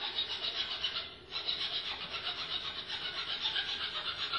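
Hand saw cutting through a piece of wood held in a miter box, a steady back-and-forth rasping of quick even strokes with one brief pause, close and moderately quiet.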